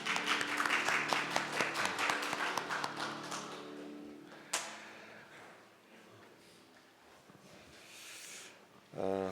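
A church congregation at a Sunday service applauds to welcome visitors, a dense burst of clapping that fades after a few seconds into quieter room noise with a few taps and thumps.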